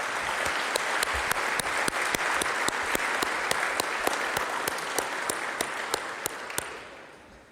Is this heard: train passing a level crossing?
no